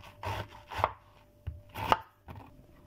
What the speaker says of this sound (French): J'ai fini de découper le chou.